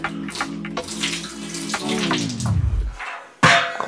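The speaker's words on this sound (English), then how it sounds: "Just tip the water into the bath." Dirty water from an old domestic radiator tipped out into a bath, a steady close pour and splash that runs for a few seconds, drops off briefly, then gushes again loudly.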